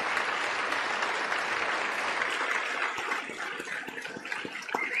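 A standing audience claps loudly and continuously at a political speech, a dense wash of hands that thins slightly toward the end, where individual claps become more distinct.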